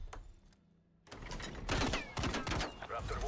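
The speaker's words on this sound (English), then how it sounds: "Ray gun works too." A ray gun fires in Call of Duty Zombies on the Forsaken map: a quiet start, then a string of loud, sharp zapping shots in quick, uneven bursts.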